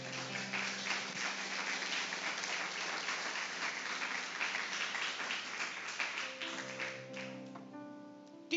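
Church congregation clapping steadily for several seconds, a dense sustained wash of many hands filling a worship hall, fading near the end as a held organ or keyboard chord rises underneath.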